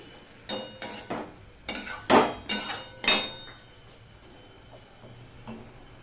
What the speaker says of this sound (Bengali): এবার শাকটা আমি উপর নিচ করে মিক্স করে নেব